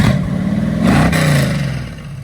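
A 1971 Chevy Chevelle 454 big-block V8 with Flowmaster exhaust and cutouts open revs up, loud and throaty, swelling as it passes close by, then the deep rumble fades as it pulls away.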